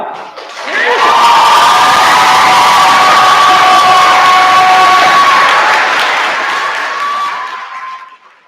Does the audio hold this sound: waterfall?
no